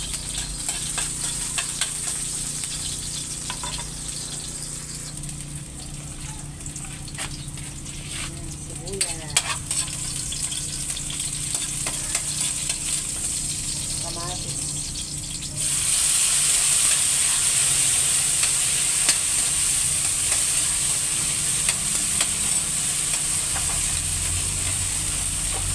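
Onions sautéing in a pan, a steady sizzle and hiss with occasional stirring clinks, growing louder and brighter partway through as the frying intensifies.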